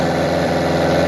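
A running engine whose radiator is connected into the cooling circuit gives a steady, loud idling drone with an even low hum throughout.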